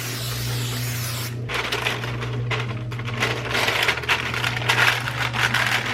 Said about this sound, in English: I'm gonna take my olive oil spray and I'm gonna spray these.